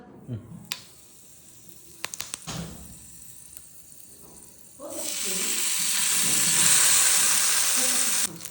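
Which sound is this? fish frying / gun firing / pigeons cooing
fish frying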